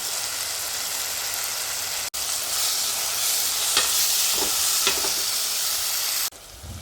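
A paste of ginger, garlic and fennel seed sizzles loudly in a hot pan, a dense, constant hiss with a few brief stirring scrapes near the end, close up with no talking.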